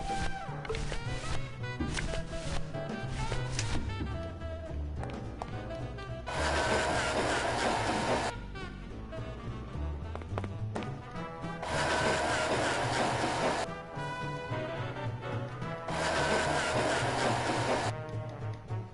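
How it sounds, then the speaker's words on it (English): A handheld grinder runs in the Grim Fandango video game, its steady mechanical whir rising in loud sustained bursts between stretches of rhythmic clattering machinery and game music. "It's a handheld grinder."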